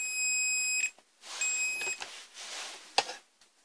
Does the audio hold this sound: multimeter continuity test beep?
yes